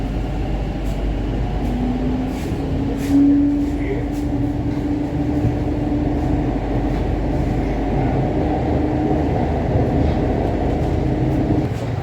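A Kolkata Green Line metro train runs in the tunnel beneath the Ganga, a steady, loud rumbling drone with a faint rising whine that holds evenly throughout.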